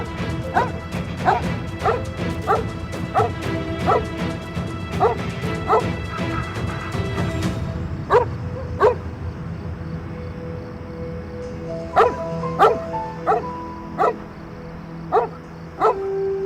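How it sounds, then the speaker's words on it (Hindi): A dog barks over and over in repeated sharp bursts, loud and close, with short yips and whimpers between, while a clattering crash fills the first half before the barking continues alone. "ये सामने देखकर मुसलसल क्यों भौंकता जा रहा है?"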